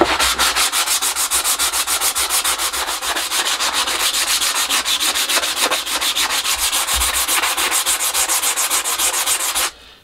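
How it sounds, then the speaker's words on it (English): Wood being sanded by hand with a coarse 80-grit sanding block in a small shed, a loud, steady run of quick back-and-forth rasping strokes that stops abruptly near the end. "I can find my sanding block. Just go reasonably coarse with an 80 grit, I think."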